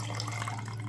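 Cold water poured into a creamy drink mixture, a steady close splashing and trickling pour running through the whole second with no talk.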